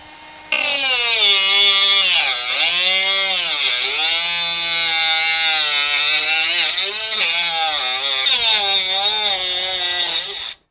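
Xenon X-CS2AGD cordless grinder or drill spinning at about 1300 RPM as it works on PPR plastic pipe, a loud, steady whining motor note with wavering pitch dips as the load changes, continuous for about ten seconds.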